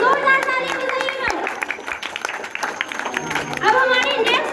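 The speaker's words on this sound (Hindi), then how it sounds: "चलो इनके लिए जोरदार तालियां बजाइएगा।" Audience applause and clapping at a school Independence Day programme, a steady patter of many hands mixed with crowd chatter, with someone speaking over the clapping through most of it.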